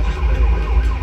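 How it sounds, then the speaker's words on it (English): An electronic siren wails steadily in a Bond-themed virtual pinball game, a synthesized arcade-style tone sounding continuously without pauses. "Oh, there's that siren again."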